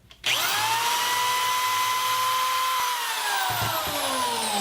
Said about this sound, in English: I have my corded drill outfitted with an 1/8 inch drill bit, and I'm going to pre-drill into these end rail pieces